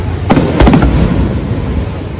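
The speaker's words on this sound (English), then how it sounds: "We made it back to our room just in time to catch the fireworks show from our balcony." Fireworks bursting over Puerto Rico, watched from a hotel balcony: a few sharp pops and bangs cluster near the start over a steady rumbling, crackling background roar from a distance.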